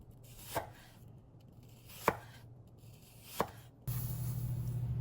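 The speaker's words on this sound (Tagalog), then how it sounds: "I-slice lang natin ng maninipis yung apple para mabilis siyang maluto." Apples are sliced thinly on a cutting board for an apple pie, three distinct knife chops spaced about a second apart, close and crisp, before a steady background hum kicks in.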